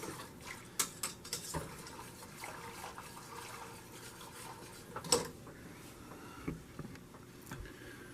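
Pot roast liquid and vegetables stirred in a cooking pot, heard as scattered wet sloshes and clinks of a utensil against the pot at irregular intervals, fairly quiet and close. No voices.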